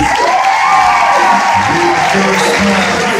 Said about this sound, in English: a nice round of applause for Madeline Donnelly